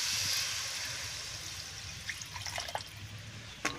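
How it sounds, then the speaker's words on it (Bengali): Hot water goes into a pan of potato, kohlrabi and pea curry cooked with spices. A faint trickle and pour is followed by scattered light drips, all quiet and close. "এবার দিয়ে দিচ্ছি গরম জল।"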